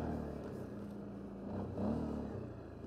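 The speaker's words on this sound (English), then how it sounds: "you hear a lot of that V-twin exhaust out the back." Steady throaty V-twin quad exhaust rumble at idle, swelling slightly as the throttle blips, recorded close to the machine.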